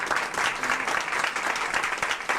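An audience at a wearable art show in an art gallery claps, a dense, steady round of applause that carries evenly through the whole moment.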